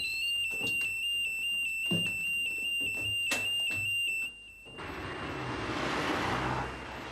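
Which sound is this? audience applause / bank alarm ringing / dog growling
bank alarm ringing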